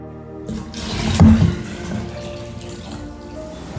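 Clean water poured from a tap into a pot for onion and garlic broth, a steady splashing rush that swells briefly near the start and then settles into a continuous close stream with no talking.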